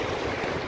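Continuous wash of sea waves below a beach cliff, a dense broadband roar mixed with wind rumble, steady and fairly loud with no voices.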